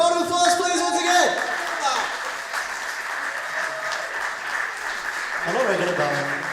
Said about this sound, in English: Round of applause, please, once again.